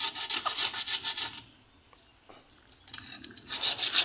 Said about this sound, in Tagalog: So, gamit tayong liha, no?